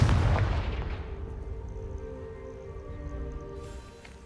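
A Confringo blasting spell cast in the Hogwarts Legacy video game bursts as a loud, booming blast at the start, then decays into a long rumbling tail that fades out.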